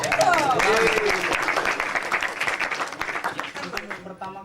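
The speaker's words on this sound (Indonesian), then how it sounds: "Wah, tepuk tangan dong." Audience applause at a university student orientation talk show, dense clapping at full strength that gradually thins and fades, with a voice speaking over it.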